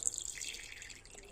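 Spoonfuls of orange blossom water pour into a pan of sugar, a brief soft trickle and splash, faint and close with no talk.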